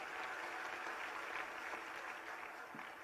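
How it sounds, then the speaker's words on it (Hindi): Audience clapping at a Hindi religious discourse and question session, a continuous faint, even patter of many hands from a crowd heard at a distance. "ताली बजाओ बच्ची को"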